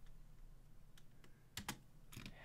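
Typing on a computer keyboard, a few sparse key clicks followed by short rapid bursts of keystrokes over a quiet room hum, fairly close and distinct.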